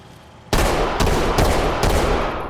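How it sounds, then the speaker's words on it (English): Shotgun blasts from a 590M in the tactical shooter game Ready or Not, four loud close shots fired in quick succession, each a sharp crack with a ringing tail. "fire off a few rounds"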